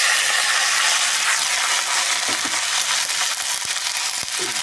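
Chopped vegetables hit hot oil with broken dried red chillies in a pan, giving a loud, steady broadband frying sizzle throughout with a few soft clinks of stirring near the end.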